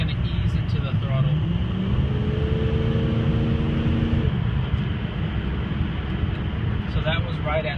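A diesel truck with a stock 04 turbo and an extreme street tune accelerates under throttle, a loud, steady drone with a rising turbo whistle that climbs and then fades, heard from inside the cab.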